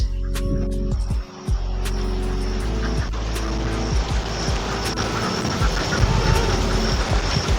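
Ducks quack repeatedly outdoors by a pond on Mousuni Island while a low engine rumble, like a passing vehicle or aircraft, drones steadily underneath.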